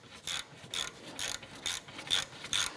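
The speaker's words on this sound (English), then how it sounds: "Using your 14mm socket, go ahead and remove your caliper bracket bolts." A ratchet fitted with a 14mm socket loosens the rear brake caliper bracket bolts on a 2004-2008 Acura TL, giving six quick, evenly spaced bursts of sharp pawl clicking, close and clear with no voices.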